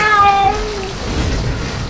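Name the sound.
cat meowing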